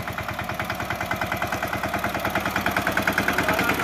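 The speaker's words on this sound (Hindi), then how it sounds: "तो जी हमारा ट्रैक्टर है" A tractor engine runs steadily nearby, a loud rhythmic diesel chug of rapid evenly spaced thumps holding a constant pace from start to finish, with no voices heard.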